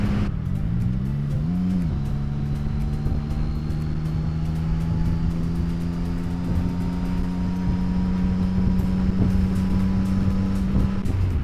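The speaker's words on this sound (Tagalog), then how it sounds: "Medyo maingay pala yung helmet ko pag nakabukas yung vents." Steady, loud rushing roar of wind through open helmet vents while riding a motorcycle, with a droning engine tone that rises briefly then holds level throughout.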